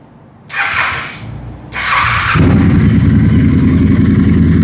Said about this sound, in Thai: เนี่ยผมรอบเดินเบานะ